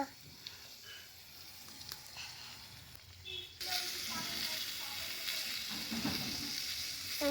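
Coriander and cumin powder frying in a hot pan, a steady bright sizzle that swells louder midway and keeps hissing close by with faint stirring scrapes, no talk.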